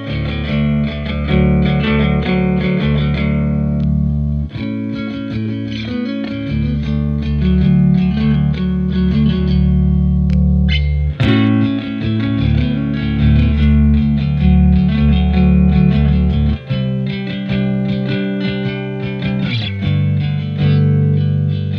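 Squier Troublemaker Telecaster Deluxe electric guitar in coil-split mode played through a series of clean-ish chords and riffs, sustained and loud, with brief pauses between phrases and no talking.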